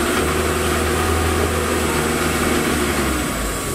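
A 1981 Peugeot 604 turbo diesel saloon engine idles steadily close by, a continuous low rumble with a faint higher whine, no talk over it.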